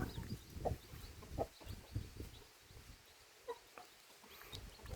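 Roosters and hens of a fighting-cock breed kept on a farm cluck and call in short, scattered bursts at moderate distance, with quieter gaps between them.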